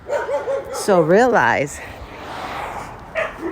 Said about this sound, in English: Okay, sorry about the dogs.